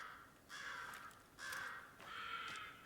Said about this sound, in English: I hear you, Crow.